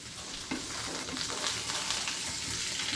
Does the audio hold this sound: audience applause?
no